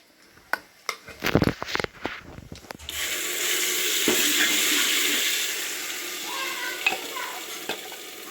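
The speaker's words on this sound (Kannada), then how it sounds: "ಇವಾಗ ಈ ಮಸಾಲೆ ಹಾಕೊಂಡಿದ್ದೀವಲ್ಲ ಇದೊಂದು ಐದು ನಿಮಿಷ ಚೆನ್ನಾಗಿ ಫ್ರೈ ಮಾಡ್ಕೊತೀನಿ" A loud, steady sizzle of sambar spice paste frying in a hot pan after a few sharp clanks of utensils, with occasional stirring scrapes.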